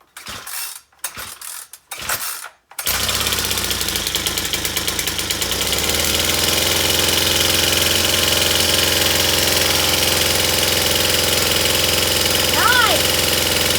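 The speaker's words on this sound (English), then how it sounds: "That thing sounds like a lawnmower." NS291 Farm Boss chainsaw engine starting after a few short pull bursts, then running steadily and loudly at idle and higher revs, close up, with people talking over it.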